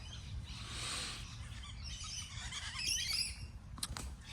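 Wild birds chirp and squawk faintly in an open field over a low steady rumble of wind or background noise, with a few sharper calls near the end.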